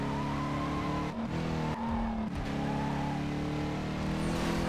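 A tier 1 muscle car in the racing game Need for Speed Carbon drones with a loud, steady engine note that dips briefly twice and then climbs, over faint tire noise, with no voices.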